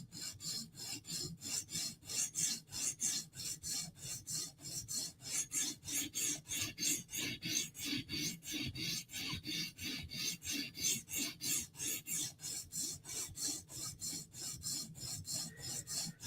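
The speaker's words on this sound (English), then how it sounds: "Now we're just gonna clean up the burr with this stone" A Spyderco knife blade is worked against a sharpening stone to clean up the burr, giving a quick, even series of rasping strokes, about two per second, close and sustained with no talk.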